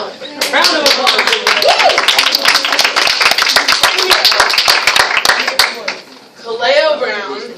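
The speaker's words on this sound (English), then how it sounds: "Round of applause." A room of teachers at a community charter school professional-development session claps for a staff member, sharp individual claps close by forming a loud patter, with talk and laughter over it, ending in a short spoken phrase.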